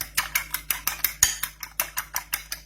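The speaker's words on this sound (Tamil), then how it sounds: "நம்ம அந்த முட்டையை வந்து நல்லா அடிச்சுக்கலாம்" Eggs beaten in a bowl by hand, a quick regular series of about a dozen sharp clinks and taps from the utensil striking the bowl, close and clear with no talking.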